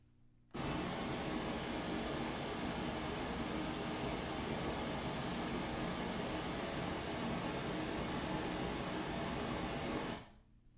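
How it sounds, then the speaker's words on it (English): A steady broadband hiss of pink noise from an Ohm Walsh 2 speaker without equalization starts abruptly, holds at constant level for about ten seconds, then cuts off. "let's listen to the pink noise response and look at it on the display without equalization"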